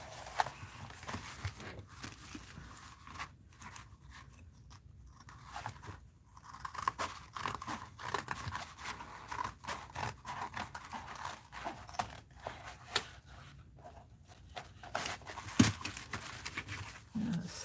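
Scissors cut flaps off a cardboard box, giving close, quiet crunching snips and crinkles in an irregular, continuous run with no talk.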